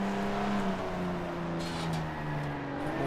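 Several racing car engines from the late-1960s era of Grand Prix Legends drone and rise in pitch far across the track, a faint steady whine of revving motors with no talk.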